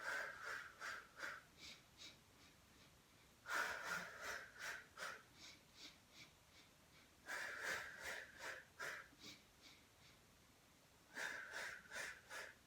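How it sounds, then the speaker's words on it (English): Breath sounds from a Pilates mat class: rhythmic pulsed exhalations in three bursts of several quick breaths each, separated by pauses, close but fairly quiet, no speech. "Exhale for 5."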